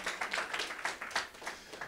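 Audience applause at an independent bookstore literacy townhall, a modest crowd clapping in a steady, quick rhythm for a couple of seconds, fairly close and without talk.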